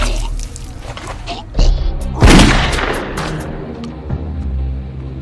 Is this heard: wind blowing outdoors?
no